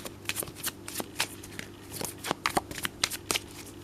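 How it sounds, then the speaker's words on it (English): A deck of tarot cards is shuffled by hand, soft papery riffles and flicks in quick irregular bursts, close and fairly quiet. "let's shuffle to see what we get for Virgo."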